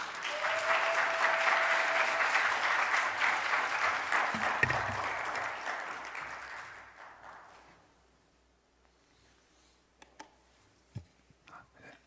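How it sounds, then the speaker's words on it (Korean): A church congregation gives welcoming applause for a visiting pastor, a dense sustained clatter of many hands that swells, holds for several seconds, then fades out, leaving a few scattered claps and clicks in a quiet hall. "우리 김맹 목사님 나오실 때 우리 환영의 박수 우리 하겠습니다"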